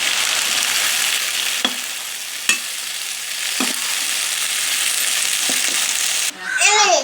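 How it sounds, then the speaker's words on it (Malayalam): Raw banana chips, kaya upperi, frying in oil in a pan give a steady close sizzle, stirred with a few scrapes of a spoon and a brief higher sound near the end. "അപ്പൊ നമ്മളെ കായുപ്പേരി വെന്ത് നോക്കിയാലോ. നമുക്കിത് ഇളക്കി കൊടുക്കാം."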